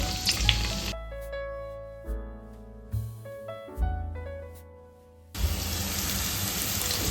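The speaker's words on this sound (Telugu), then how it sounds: "ఆయిల్ కాగిన వెంటనే పచ్చిమిర్చి కరివేపాకు కొత్తిమీర జీలకర్ర అన్నీ వేసేసి వేగించాలి" Green chillies, curry leaves, coriander and cumin dropped into hot oil for a crab curry, sizzling loudly and densely at the start and again at the end, with a stretch of tonal music in between.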